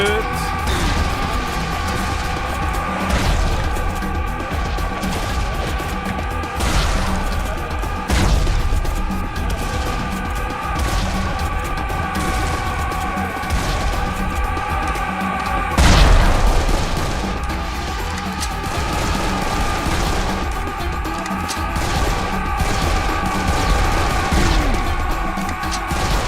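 Video game gunfire crackles in scattered bursts and single shots over a steady musical drone, with one heavier boom midway, mid-distance and moderately loud.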